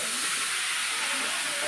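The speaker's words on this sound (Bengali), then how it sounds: "মা আলু ভাজছে মাংসের জন্য" Potatoes frying in oil for a meat curry in a home kitchen, a steady dense sizzle and hiss, close and continuous throughout.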